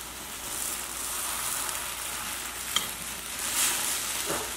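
Salvadoran bread torrejas fry in a pan with a steady, close sizzle, broken by a couple of brief clinks and shifts as the pieces are turned.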